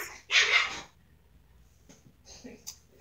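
A puppy fighting with a cat lets out a loud, close yelping bark, followed by quieter whimpers, rustling and scuffles.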